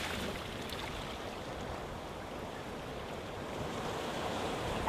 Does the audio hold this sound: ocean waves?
yes